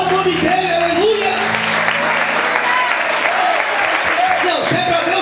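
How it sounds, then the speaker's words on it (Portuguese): A church congregation applauds steadily and loudly, a dense continuous clapping that fills the room while a voice speaks over it. "Você pode aplaudir o Senhor e adorar o nome dEle"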